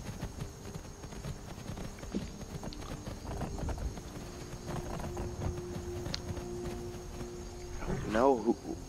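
Horse hooves clip-clopping in modded Skyrim, a steady quiet rhythm of hoof falls on the ground with a faint outdoor ambience, ending in a short horse whinny.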